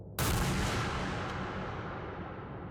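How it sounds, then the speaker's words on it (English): A single loud gunshot rings out in a horror video game, a sharp blast followed by a long rumbling reverberation that slowly fades over a few seconds, with no voices. "a gunshot is heard"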